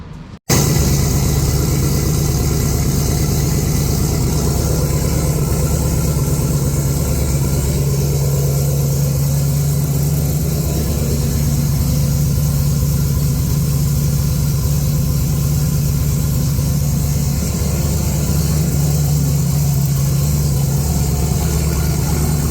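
A race car engine runs at a steady, loud idle after a spark plug change, with a low continuous drone and no revving. It is heard close up, alone, with no talking.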